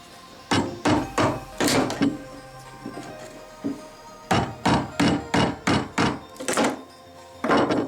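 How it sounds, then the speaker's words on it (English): Repeated hammer blows prying a carpet tack strip off a wooden stair, close and loud, in quick rhythmic runs of hard knocks broken by short pauses and a few lighter taps. "you guys can see how I'm removing this carpet tack"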